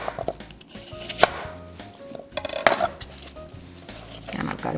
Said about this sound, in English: my apples are all ready now to be diced